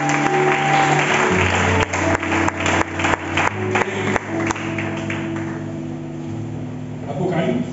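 A church congregation breaks into a run of sharp, uneven hand claps over sustained voices and tones, the clapping clustered in the middle before fading into a softer murmur.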